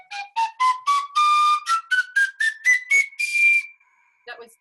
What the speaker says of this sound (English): with the penny whistle, it is a 2-octave instrument, meaning you can play it 1 low and 1 high.